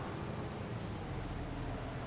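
Steady rain falls in Farming Simulator 22, a faint even hiss with a low rumble beneath, unchanging and without voices.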